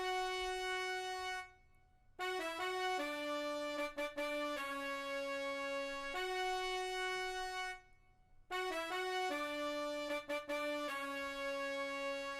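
An FL Studio trumpet preset plays a higher-octave melodic pattern of sustained synth-brass notes broken by rapid stuttered repeats, clean and alone with two brief silent gaps between phrases.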